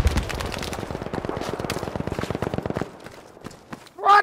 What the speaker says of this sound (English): there's bullets flying everywhere